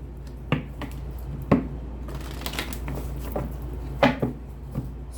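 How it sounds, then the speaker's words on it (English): Tarot cards are shuffled by hand in a quiet room, giving soft papery riffles and a few sharp taps and snaps at irregular intervals, close and fairly faint. "One more shuffle, Sagittarius."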